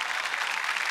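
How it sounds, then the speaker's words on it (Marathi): Dense, continuous applause from a studio audience welcoming cast members onto a Marathi comedy show stage, a steady wash of many clapping hands with no talk over it. "जोरदार टाळ्या, जोरदार टाळ्या झाल्या पाहिजेत।"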